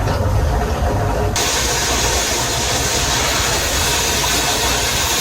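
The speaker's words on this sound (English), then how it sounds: "this has been spewing steam out for about 10 minutes now" A pressure canner full of mushrooms vents steam in a loud, continuous rushing hiss that stays steady and close throughout, with no voices.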